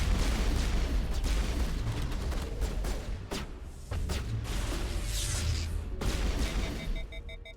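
Pistol fire in the sci-fi shooter Mass Effect 1: a dense battle mix of repeated sharp shots and booms over rumbling background, with a run of bright crackling bursts mid-clip and a short pause near the four-second mark.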